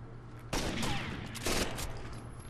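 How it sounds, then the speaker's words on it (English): Mac 11 submachine gun firing 9mm rounds in the shooter Rainbow Six Vegas 2, a rapid dense burst of gunfire that rises abruptly, then a second louder burst, under a steady background hum. "I killed the sniper from long range with a Mac 11 shooting 9mm bullets"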